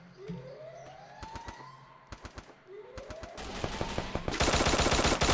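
Bursts of gunfire in the battle-royale game Free Fire during a competitive scrim, with sharp rapid shots in clusters that build into dense continuous automatic fire, over rising siren-like tones and faint background talk.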